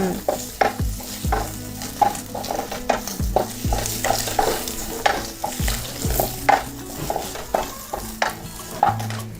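Snails, already fried, sizzling in hot oil and stirred with a utensil, giving close, rhythmic scrapes and clacks over a continuous frying hiss.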